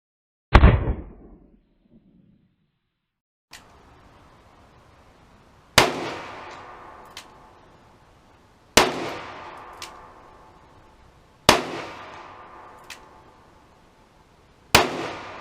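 .44 Magnum revolver firing, with one loud sharp shot followed by a pause, then four more spaced cracks about three seconds apart. Each shot rings out with a decaying echo tail, and no one talks.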